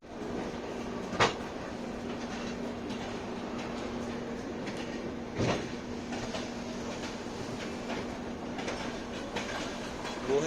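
Swarna Shatabdi Express train pulling out of platform 9 at New Delhi station, a steady low rumble with a sustained hum and occasional sharp clanks and thumps from the coaches, continuous and fairly close.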